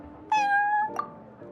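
Prince the cat in Genshin Impact gives a clear, drawn-out meow followed by a shorter chirping meow, close and alone against a quiet background.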